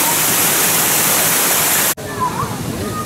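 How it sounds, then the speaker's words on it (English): A waterfall at a zoo in Oklahoma City gives a steady, loud rushing roar close by. It is broken by a sudden brief cut, then continues slightly softer. "there's a beautiful waterfall"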